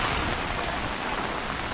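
Steady monsoon rain pours down over school rice-planting fields in Devgad, Sindhudurg, a dense, even hiss with no breaks and no voices.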